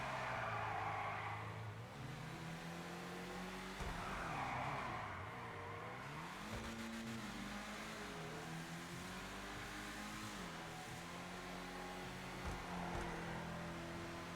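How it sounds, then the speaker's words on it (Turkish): Ubermacht Rhinehart, a BMW 5 Series-style sedan, driven hard in GTA 5 Online, its engine note rising and falling steadily with tire squeals through turns, loud and continuous with no talking. "Araba baya hızlı."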